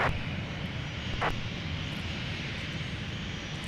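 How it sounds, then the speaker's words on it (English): A Delta jet airliner at Minneapolis–Saint Paul airport produces a steady, loud engine roar that holds throughout, with a brief higher hiss rising partway through and no talk. "Delta 171 has pushed back from Terminal 1."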